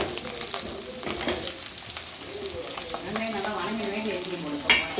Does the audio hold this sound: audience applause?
no